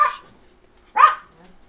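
A pet dog barks indoors, two sharp close barks with a pause between them, each followed by a softer whimpering tail.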